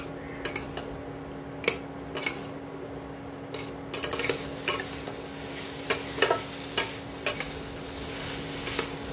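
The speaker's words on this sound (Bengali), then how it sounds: "সবজিগুলো একটু ভালো করে কষিয়ে নেব।" Vegetables for Bengali shukto stir-fried in a pan, with a spatula scraping and clinking against the metal in irregular strokes over a low sizzle, heard close with no talking.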